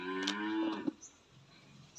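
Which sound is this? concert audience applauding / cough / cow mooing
cow mooing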